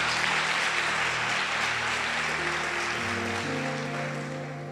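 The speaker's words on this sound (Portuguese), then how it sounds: "Aplauda Jesus." Church congregation applause, a continuous dense roar of many hands clapping with music sustaining underneath, holding steady and then slowly easing off.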